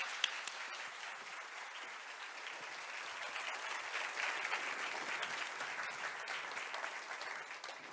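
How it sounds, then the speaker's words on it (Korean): A lecture audience gives sustained, even applause as a physics professor comes forward, a dense, moderately distant wash of many hands clapping. "교수님께서 앞으로 나오실 때 큰 박수 부탁드립니다."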